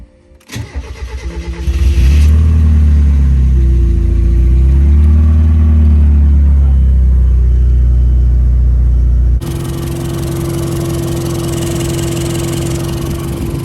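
A turbocharged Mazda Miata running a new standalone ECU cranks briefly, fires up and settles into a loud, steady idle with a wavering low rumble. Partway through, the tone shifts to a slightly quieter, even idle.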